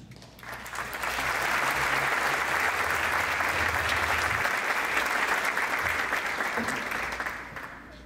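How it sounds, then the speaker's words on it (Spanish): Audience at a tribute event welcoming a group onstage with applause that swells in quickly, holds as a thick, even roar of clapping, then tapers off near the end. "Recibamos en este caso, con un aplauso, a los chicos de Golden Shack"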